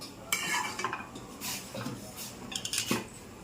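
A spoon scrapes and clinks against a metal pot while stirring semiya payasam, giving close, irregular strokes and rattles with no voices.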